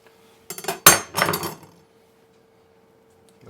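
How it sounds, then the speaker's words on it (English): A knife works into an avocado on a cutting board while a turkey, pesto and Swiss panini on sourdough is assembled, giving a few close, sharp clicks and scrapes in a brief cluster before quiet. "So the first thing I'm going to do is I'm going to cut my avocado"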